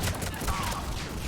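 Gunfire from the video game Mass Effect 3 rattles in a brief, dense burst of shots at moderate volume, with a voice faintly present underneath.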